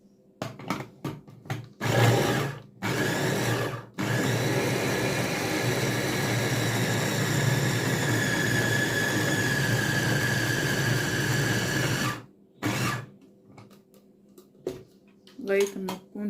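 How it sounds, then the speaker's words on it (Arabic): An electric food chopper whirs steadily for about eight seconds as it purées chicken for chicken fingers, loud and close, with short bursts of clatter and handling before and after. "هضربها بقى كده في الكبة"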